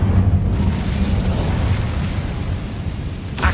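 Incendio fire spell in Hogwarts Legacy, a loud, sustained roaring whoosh of flame that holds steady for several seconds before a brief crackle at the end.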